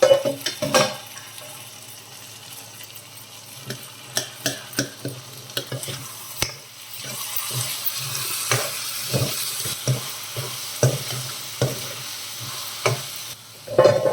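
Bottle gourd masala curry with tomatoes cooks in a covered pan, giving a steady low sizzle and stir-like rustle broken by soft irregular ticks and clinks of a lid or spoon, close and fairly quiet with no talk.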